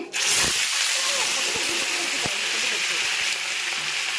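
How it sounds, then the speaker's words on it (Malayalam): Mustard seeds and dried red chillies sizzle in hot coconut oil with a loud, steady hiss, dotted with scattered crackles and pops close by. "ചൂടായിക്കൊണ്ടിരിക്കുന്ന വെളിച്ചെണ്ണയിലേക്ക് നമ്മൾ കടുകൂട്ടന്മാരെ ഇട്ട് കൊടുത്തു"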